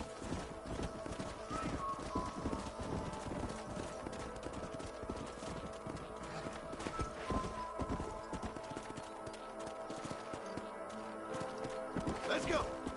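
Steady clip-clop of several horses' hooves at a fast gallop in the video game Red Dead Redemption, with an occasional whinny and voices talking over the rhythmic pounding.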